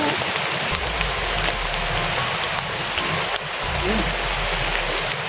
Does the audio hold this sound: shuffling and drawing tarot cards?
no